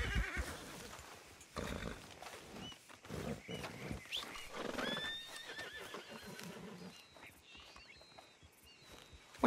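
A horse in the Red Dead Redemption 2 video game lets out loud, shrill neighs and whinnies amid snorting and some hoof clip-clop, fairly close and without speech.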